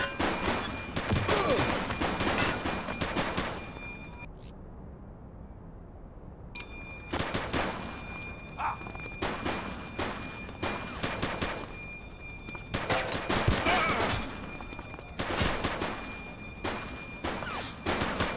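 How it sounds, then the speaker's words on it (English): Gunfire in The Precinct police video game: repeated bursts of rapid shots and short volleys, loud and close, with a brief quiet gap partway through. "He's shooting!"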